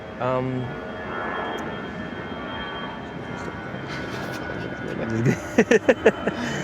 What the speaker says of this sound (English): Another plane's coming.